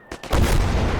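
Artillery fire in Call to Arms Gates of Hell, a couple of short thumps followed by a loud, close, sustained booming roar.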